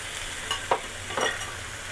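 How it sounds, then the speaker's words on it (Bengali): Chopped tomatoes go into a sizzling beef curry, and the pan keeps up a steady frying hiss with a few scraping stir strokes, close by and alone. "এখানে আমরা টমেটো কুচি দিব"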